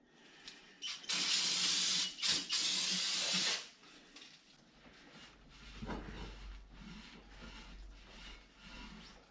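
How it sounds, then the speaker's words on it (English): Brake cleaner sprays in loud hissing bursts onto a Harley swing arm, two or three close blasts in quick succession, then a quieter stretch of low handling noise and faint rumble. "I'm just gonna use some brake clean."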